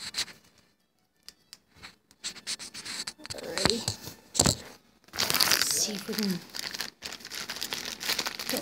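Crinkly plastic packaging is crumpled and ripped open in bursts of rustling and tearing, with someone speaking briefly in between.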